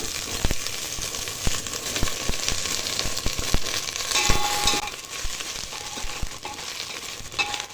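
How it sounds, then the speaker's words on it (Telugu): Large chunks of okra, about fifteen pieces, fry in hot oil with a steady sizzle and dense crackling throughout, punctuated by sharp pops and brief stirring clatter, close and fairly loud. "నూనె వేడి కాగానే దీంట్లో పెద్ద సైజు కోసుకున్న బెండకాయలు వేసేసుకోవాలి"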